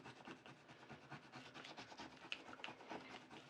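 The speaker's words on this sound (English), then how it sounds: "It's just a repetitive process of rub, scrape, pull, rub, scrape, pull." Vinyl transfer tape is rubbed and scraped onto layered vinyl, making a faint, close, continuous scratchy rasping with small repeated strokes.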